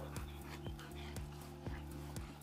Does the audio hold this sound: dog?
yes